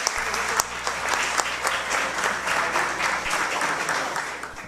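A crowd claps warmly for an honoree at a Chico Mendes environmental award ceremony, with steady dense applause and a few sharper individual claps standing out over a low hum, lasting about five seconds.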